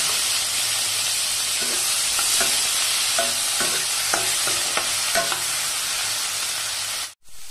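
Chopped tomatoes and onions sizzle steadily in a buttery wok. A spatula stirs them with a run of scraping knocks, then the hiss briefly cuts out near the end.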